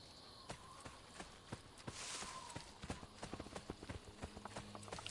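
Horse hooves clip-clopping in the video game Assassin's Creed 2, a run of sharp, fairly close hoofbeats that quicken into a steady trotting rhythm, with a faint voice in the background.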